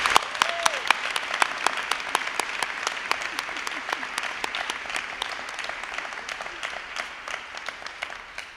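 An audience at a live mental-health storytelling performance in Boston claps in a fast, steady burst of many hands, moderately loud and sustained for several seconds before tapering off.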